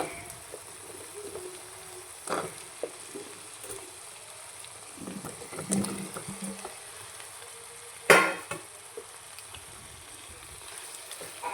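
Cut potatoes tossed into a pan of cooked-down tomato masala for potato curry, a low sizzle and frying hiss with scrapes and stirring knocks, one sharp clatter partway through.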